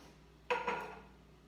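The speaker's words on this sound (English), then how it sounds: "I'm just stirring this together." A utensil strikes and scrapes once against a metal pot while butter garbanzo beans are stirred together, a short close clatter with a second lighter knock, fading quickly.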